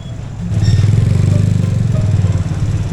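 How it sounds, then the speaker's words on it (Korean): Motorcycles pass close by on a busy street, a loud, steady engine drone that rises in the first half second and holds with a pulsing rumble, with no talk over it. "계속 계속 오토바이 다니네 앞에 사람도 신경 써야 되는데 뒤로 오는 오토바이도 신경을 써야 돼"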